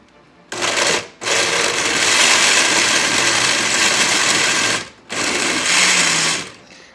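A blender whirs loudly up close while blending carrot and pineapple juice, running in two long bursts with a brief stop near the start and another short pause in between.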